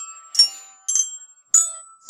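Three bright bell strikes ring out in turn, each with a clear metallic tone that lingers briefly before the next, then a fourth begins at the end.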